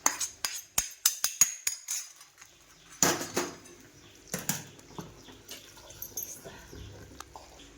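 A spoon scraping and clinking against a pot while mixing wheat kheer made with khapli wheat, giving a quick run of sharp knocks followed by softer, irregular stirring taps, close and fairly quiet.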